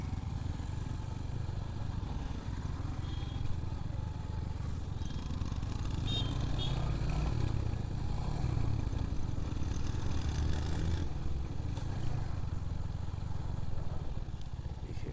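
A Royal Enfield Hunter 350 motorcycle rides through city traffic, its engine a steady close rumble throughout, with road noise and faint surrounding vehicles.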